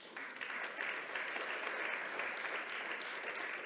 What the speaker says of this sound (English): another round of applause for all of the aforementioned